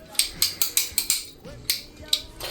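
Rapid metallic ratcheting from a tool working a 13mm alternator bolt, about ten sharp evenly spaced clicks in quick bursts, close up, with a brief pause partway.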